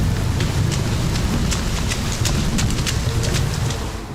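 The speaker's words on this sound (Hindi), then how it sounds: "पर्वत पर कदम रखते ही बारिश शुरू हो गई।" Rain falls steadily on a rocky mountainside, a dense and loud wash of patter with scattered sharper drops that stays constant and then eases slightly at the end.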